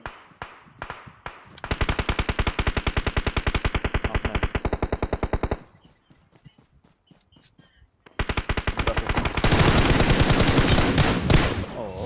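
Rapid automatic gunfire in PUBG Mobile: a long sustained burst of evenly spaced shots, a pause with a few faint pops, then another loud continuous burst.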